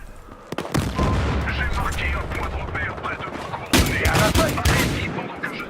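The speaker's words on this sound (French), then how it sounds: "C'est vraiment dur de faire des kills avec ce fusil à pompe." Shotgun blasts and other gunfire ring out in a Battlefield Hardline multiplayer match, dense and loud, with a heavy burst of shots near the middle of the stretch over continuous game noise.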